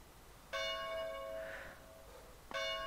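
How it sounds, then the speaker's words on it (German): A church bell rings in the video game Arma 2 DayZ: two loud, clear metallic strikes about two seconds apart, each leaving a long ringing tone that slowly fades, with no one talking. "Glocke!"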